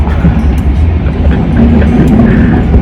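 A Kuala Lumpur MRT train runs with a loud, continuous low rumble and rattling wheel noise from inside the carriage, with faint squeaks and clicks over the steady roar.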